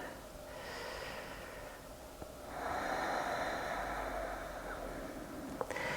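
Slow, audible breaths, with a snort-like exhale, taken while holding a standing yoga lunge stretch, close and moderately loud over a steady background hiss.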